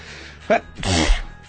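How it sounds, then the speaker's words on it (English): A single sharp human sneeze comes up close, a brief intake followed by a forceful burst, loud against a quiet background. "God bless you. Gesundheit?"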